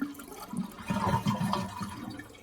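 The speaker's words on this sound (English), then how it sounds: "we're going to go ahead and flush it and let all the water out" A toilet is flushed during a Fluidmaster universal flow-and-flush valve installation, with water rushing and draining from the tank in a steady, close, moderately loud wash lasting a couple of seconds, and no talking.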